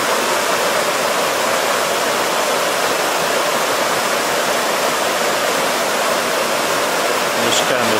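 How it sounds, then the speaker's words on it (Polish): Small waterfall beside holiday cottages in Łomnica-Zdrój, a steady close rush of water that fills the whole clip, loud and unbroken with no clear birdsong standing out. "szum wody i śpiew ptaków"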